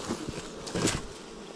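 Agitated honeybees buzz at an open hive during honey harvest with smoke, a dense, steady droning hum of many insects close by, with no talk.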